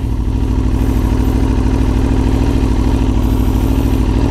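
A sportbike idles after coming to a stop, its engine holding a steady, close, throbbing rumble with a faint mechanical clatter. The sound stays even and uninterrupted throughout, with no talking.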